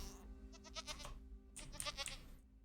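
Two bleating calls from a goat in Minecraft, each a wavering nasal bleat, the second slightly longer, faint and alone with no talking.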